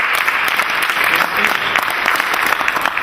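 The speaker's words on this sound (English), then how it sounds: "we owe her a big round of applause, Sister Desley, Councilperson Desley" An audience at a town hall meeting breaks into steady applause, a dense, loud patter of many hands clapping continuously with no voices standing out.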